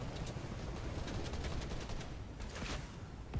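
Rapid gunfire from a Fortnite match, a dense continuous burst of shots with crackling hits throughout, loud and close with no talk over it.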